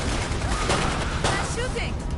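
Video game gunfire crackles in dense, rapid bursts like a fusillade, loud and continuous throughout, with voices talking over it.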